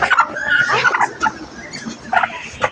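Chickens cluck and squawk in short, lively bursts close by, with a few louder calls breaking through.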